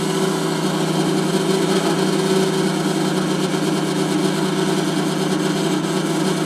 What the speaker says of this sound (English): Getting a little better on that motor.